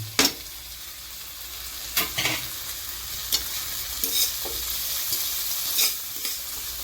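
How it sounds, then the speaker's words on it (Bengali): Spiced masala with coriander powder and red chilli powder frying on a low flame in a pan for Bengali omelette curry, a steady gentle sizzle broken by several sharp scrapes and stirs of a spatula. "এবার এই সম্পূর্ণটাকে খুব ভালো করে আমি ভেজে নেব"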